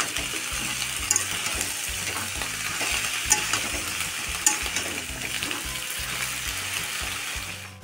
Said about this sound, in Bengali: সবজিগুলো একটু লাল লাল করে ভেজে নেব